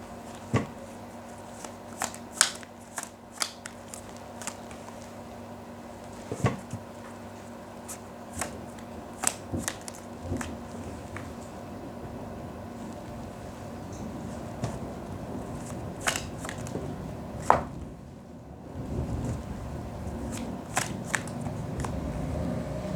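Tarot cards shuffled by hand: quiet, irregular flicks, snaps and papery crackles scattered across a steady low background, with a brief burst of denser rustling near the end.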